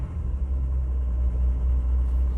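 A 1959 Vauxhall Velox PA idles in neutral on its automatic choke, a steady low rumbling engine drone heard close and fairly loud throughout, with no talking.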